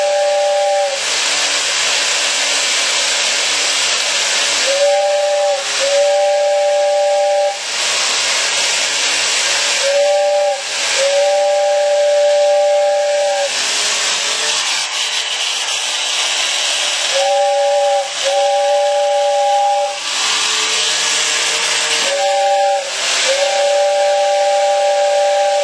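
An Overland Express toy tin train running, giving a steady high hiss with a shrill whistle-like tone that comes and goes in short repeated bursts, loud and close with no talking.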